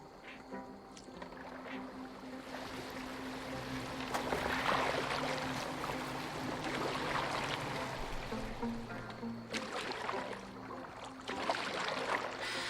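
A boat in Assassin's Creed Valhalla moves across water with a soft, continuous splash and wash of the hull, fairly faint, rising and falling without any talk.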